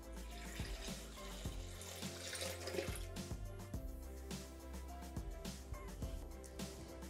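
Milk poured into a Thermomix mixing bowl while making crème chantilly: a steady, close liquid pour that splashes and gurgles for several seconds with small clinks, no talking.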